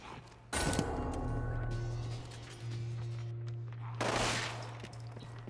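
Gunfire in the video game Umbrella Corps, two sharp loud bursts, one early and one near the end, over a steady low mechanical hum.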